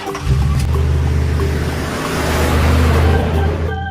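A yellow school bus drives past with a loud, steady engine rumble and broad road noise that holds for a few seconds before cutting off.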